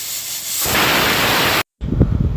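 A pressure cooker on full flame, cooking rajma with a little baking soda, lets out a loud, rushing blast of steam that swells for about a second, breaks off abruptly, then resumes more unevenly.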